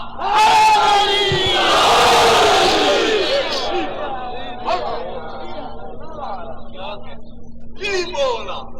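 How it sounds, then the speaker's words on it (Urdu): A large gathering at a Shia religious majlis chants a slogan in unison, a loud massed roar of voices swelling early then settling into scattered shouts and crowd murmur. "مل کے نعرہ"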